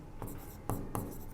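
A pen scratches across paper as accounts figures are written out, three short strokes, close and faint, with no voices.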